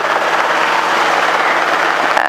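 Helicopter in flight during an off-airport training sortie, its rotor and engine roar steady, loud and close throughout, with no talking over it.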